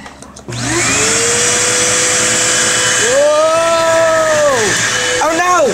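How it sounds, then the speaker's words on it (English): A loud vacuum cleaner roars steadily and close with a high whine, while voices shout and squeal over it in a cartoon-style scene. "that's a freaking vacuum cleaner"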